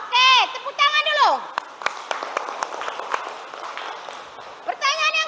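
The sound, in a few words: class of children clapping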